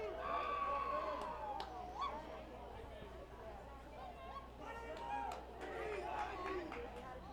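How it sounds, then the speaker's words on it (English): Cheering and shouting from the Union dugout at a high school 3A tournament baseball game against Canyon View, a loose crowd of voices rising and falling over steady background chatter for several seconds. "we just got a good cheer there from the Union dugout"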